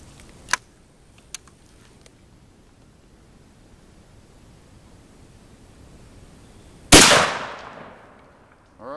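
A Savage Model 24 over-under fires a single buckshot load outdoors. It is one sharp, very loud blast with a long decaying tail, preceded by a couple of faint clicks of the action.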